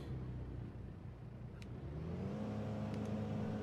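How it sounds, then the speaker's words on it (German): A vehicle engine in the Lego Worlds video game hums steadily, its pitch rising as it revs up partway through, close and fairly loud with no talking. "das war ein Motor oder so"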